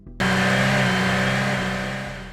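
A car engine catches suddenly and revs hard, holding a loud, steady roar that slowly fades as the vehicle pulls away.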